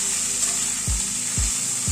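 Ginger, garlic and green chilli fry with mixed vegetables in a pan, giving a steady close sizzle with three soft scrapes of a spatula stirring through it, and no voices.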